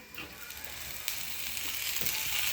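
Roasted onion dropped into a hot pan for a village-style eggplant dish, giving a loud, continuous close-up sizzle that surges at the addition and holds steady throughout, with faint stirring scrapes.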